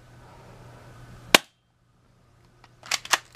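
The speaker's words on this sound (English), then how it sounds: "Pretty quick little spring airsoft gun. Let's take a few more shots." A spring airsoft pistol fired indoors, one sharp snapping shot followed by a pause, then a quick cluster of crisp clacks against a faint steady hum.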